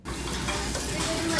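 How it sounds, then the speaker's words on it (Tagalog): Fish grilling outdoors gives a steady, dense sizzle that holds at an even level throughout, fairly close and with no break. "si Harry ang nagluluto. Nag-iihaw."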